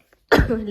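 A single short, close cough bursts out after a moment of near silence.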